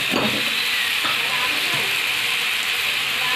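Potatoes sizzling in a hot pan while cooking bottle gourd with prawns: a steady, even hiss of frying that runs the whole time, with a few faint stirring scrapes.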